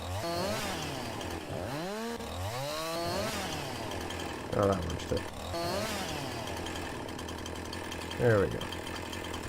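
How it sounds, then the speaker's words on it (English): A chainsaw revs and cuts through a branchy tree on a farm, the engine whining up and down in close, loud surges while someone talks briefly over it. "I love the sound of the chainsaw."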